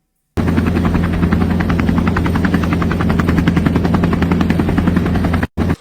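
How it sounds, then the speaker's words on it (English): Loud, steady rhythmic thumping of several helicopter rotors working over the Los Angeles wildfires, continuous and close, with a sharp cutoff near the end. "Multiple helicopters working on the area."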